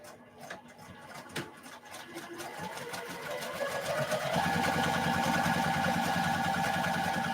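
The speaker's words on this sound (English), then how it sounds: "I'm going to sew these two together on these fabulous lines I just drew." A sewing machine stitches two fabric pieces together along drawn lines, starting with a few slow stitches and building into a steady, fast, rhythmic whir that holds close and loud to the end.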